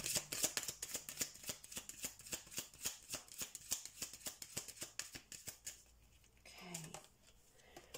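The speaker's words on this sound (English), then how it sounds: "I want to get some more cards from the Keeper Tarot deck here." Keeper Tarot deck cards being shuffled in a quick, even riffle of close papery flicks for about six seconds, then a soft pause with a faint voice.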